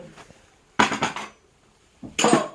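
Rice bowls and dishes clink and clatter in two short, close bursts separated by a quiet pause.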